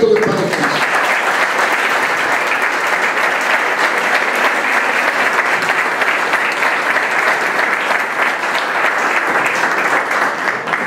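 An audience at a Valsequillo awards ceremony gives a long, sustained round of applause in remembrance, thick and steady clapping at full strength from start to finish.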